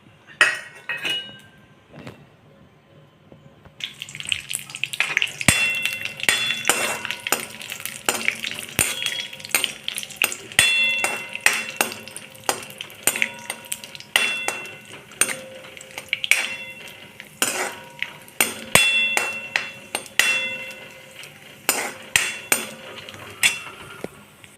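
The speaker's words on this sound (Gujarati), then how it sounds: "આપણે કાજુને જરીક શેકી લઈશું" Cashews roasting in oil in a pan for kaju masala curry, with a soft sizzle under repeated metallic clinks and scrapes of a spoon stirring against the pan.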